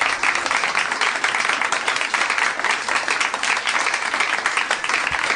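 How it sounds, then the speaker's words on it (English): A round of applause plays on a comedy podcast, dense and even clapping that stays loud and unbroken from start to finish. "The round of applause is weird."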